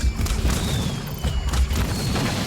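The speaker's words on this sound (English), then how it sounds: "They're gonna run at me and explode, probably." Enemy exploders detonating in the video game Luna Abyss, a run of deep, rumbling booms and blasts stacked close together over about two and a half seconds, loud and heavy in the low end.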